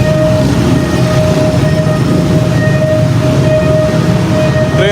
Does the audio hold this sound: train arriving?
yes